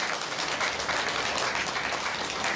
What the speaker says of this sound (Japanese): みんな二人に拍手しちゃってくれ